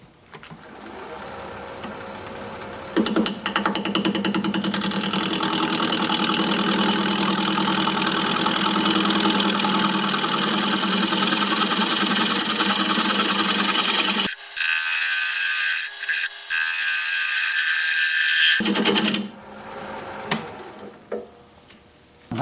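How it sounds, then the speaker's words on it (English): Wood lathe turning a holly bowl, a steady loud motor hum with a gouge scraping across the spinning wood; the cutting stops briefly near the end, then resumes with a rougher edge. "We'll just keep working at it kind of slowly and seeing what develops"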